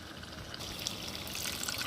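Water pours steadily into a pan, a continuous close splashing trickle with a brighter rush in the second half, no voices.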